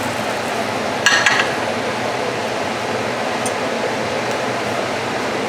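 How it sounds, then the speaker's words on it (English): A kitchen exhaust fan runs as a steady broadband whoosh over a stovetop where salmon is sautéing, with a brief clink of cookware partway through and no talking. "We don't need the fan anymore."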